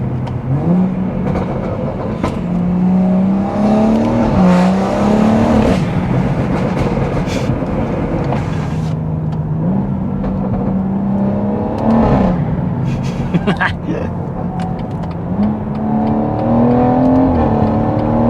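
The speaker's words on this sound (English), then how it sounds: "you can make a boring motorway journey fun just by putting it in Sport Plus and downshifting a bit" A BMW M140i in Sport Plus on the motorway, its engine droning close inside the cabin as revs climb, dip and jump again through repeated accelerations and downshifts.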